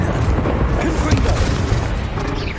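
A Confringo fire spell blast in the video game Hogwarts Legacy erupts as a dense, booming rumble that fills the whole moment amid busy combat effects.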